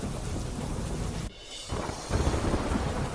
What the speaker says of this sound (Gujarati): અમરેલીના ધારી, ગીરગાંઠાના ગ્રામ્ય વિસ્તારોમાં પડ્યો ધોધમાર વરસાદ